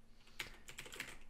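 A computer keyboard clatters under a few quick, soft keystrokes at close range, faint and irregular, with no voice over them.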